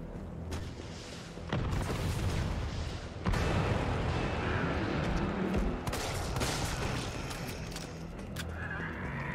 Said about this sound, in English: Rocket launcher? Rocket launcher?